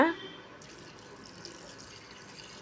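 Water pours steadily into a pot of black-eyed peas with a continuous rushing hiss, close and fairly quiet, after a brief clink at the start.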